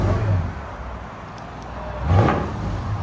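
A 1996 Lexus LS 400 with a 4.0L V8 and true dual exhaust through Valvetronic mufflers gives a deep idle rumble, then one short rev swells up near the end.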